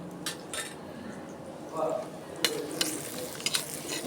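Onions frying in a pan for a Bata fish curry, a soft steady sizzle with scattered clinks and scrapes of a utensil stirring against the metal, close and moderate in level.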